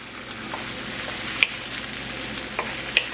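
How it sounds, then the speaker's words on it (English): Shrimp cooking in a hot pan, a steady close sizzle with a few sharp metallic taps and scrapes of stirring. "you just want to cook your shrimp for a few minutes"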